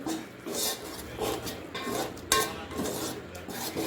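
A spoon stirs tomato puree and turmeric in a pan for a fish curry, making a series of close, rhythmic scrapes and rubs against the metal with a light sizzle.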